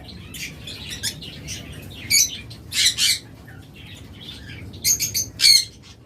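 Several pet lovebirds, cockatiels and budgerigars squawk and chirp in short, sharp bursts over a low rumbling background, with louder clustered calls near the middle and end.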